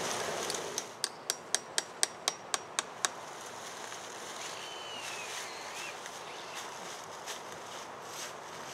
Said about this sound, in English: One man drills the holes, another man inserts the taps.